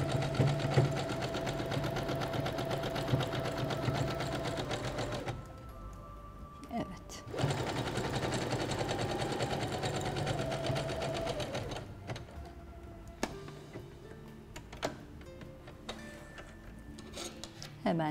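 Sewing machine stitching lace appliqué onto linen fabric, a close rapid mechanical whirring run that stops, restarts, then gives way to quieter handling clicks, with someone speaking at times.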